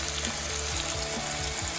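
Steady, loud sizzling of pork chops frying in a hot pan, crackling continuously throughout with no one speaking.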